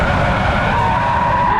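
Rear-wheel-drive Audi R8 sliding with its tyres skidding and squealing, a loud, sustained screech over engine roar that holds steady throughout.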